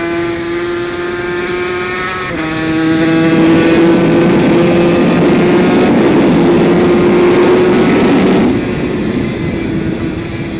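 A Yamaha TZ250 racing motorcycle being ridden, its high-pitched two-stroke engine droning loudly and steadily up close, with a jump in pitch as it shifts and the roar swelling before easing slightly near the end.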